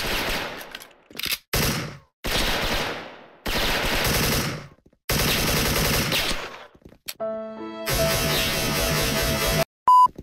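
Bursts of rapid automatic gunfire from an AK74 in a shooter video game, in long sustained volleys separated by short pauses, with electronic beeps near the end.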